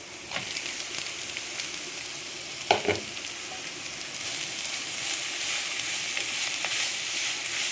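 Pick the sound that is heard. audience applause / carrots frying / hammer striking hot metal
carrots frying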